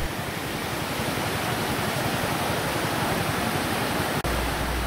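Steady, loud roar of water pouring over the spillway of a reservoir dam at Sítio Fortuna near Mombaça, a continuous broadband rush with a brief dropout near the end.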